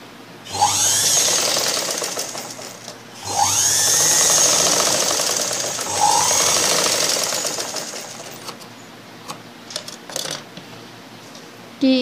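Sewing machine stitching blouse fabric, with three bursts of fast, whirring needle runs separated by brief pauses, then a few short clicks and taps, close and loud with no talk.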